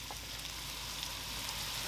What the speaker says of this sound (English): Just add up everything in there and give it a nice stir.